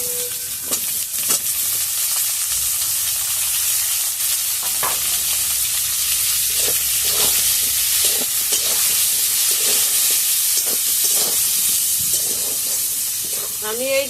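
Chopped raw tomatoes hit a hot pan of oil with ginger for a Bengali cauliflower curry, setting off a loud steady sizzle and hiss with intermittent stirring scrapes throughout.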